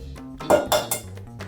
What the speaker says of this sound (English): I'm going to take my 4 eggs and I'm going to crack them into here.